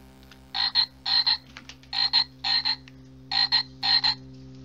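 Loud video game frog croaks in three paired bursts, each a raspy double croak, repeating rhythmically over a low steady hum with no talk.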